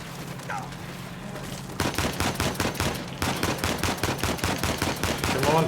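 Video game gunfire in Uncharted 4 comes as rapid, loud bursts of automatic shots after a quieter opening. The shots repeat in dense, regular volleys with only short gaps between them.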